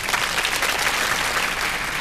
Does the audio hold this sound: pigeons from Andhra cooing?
no